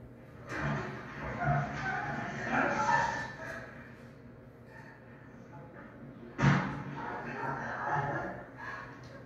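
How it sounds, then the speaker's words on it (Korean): An audio clip played during a talk on AI sound analysis opens with a door sound, followed by murmuring vocal noises, then a sharp thud or slam partway through, all fairly faint and distant. "처음에 문소리부터 시작합니다."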